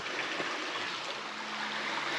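A shallow creek on a forest trail flows steadily with a soft, continuous wash of water, fairly close, with no voices.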